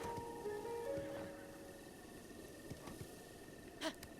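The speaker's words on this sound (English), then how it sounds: "Behold, the giant horse," A giant horse in the video game The Legend of Zelda: Breath of the Wild whinnies with a long, rising neigh, followed by a few soft snorts and hoof clops over a faint, steady background hum.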